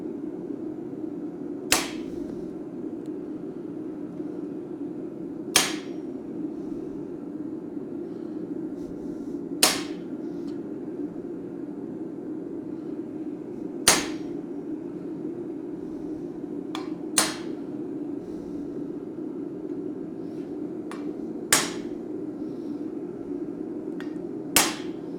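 Hammer blows cutting a mouth mark into a forged dragon head: sharp, ringing metallic strikes landing about every three to four seconds over a constant low drone, with no talking.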